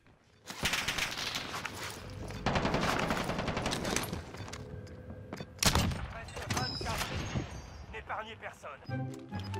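ZRG sniper rifle fire in Warzone on Rebirth Island, a game soundtrack of loud overlapping shots and bursts of automatic gunfire, dense and continuous with sharp peaks, heard over a voiceover.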